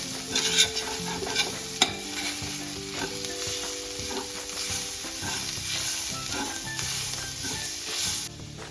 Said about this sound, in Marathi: भाजी सुट்टी करून टाकल्यानंतर आपण यामध्ये अगदी व्यवस्थित अशी भाजी परतवून घ्यायची।